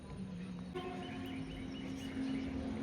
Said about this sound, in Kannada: ಟ್ರೈನ್ ಮಾಡತ್ ನೋಡ್ರಿ.